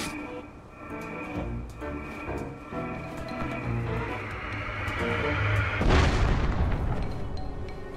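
Cannons firing in a video game, heavy booming blasts over a droning game soundtrack, building up to one loud, broad explosion near the end before settling into rumbling noise.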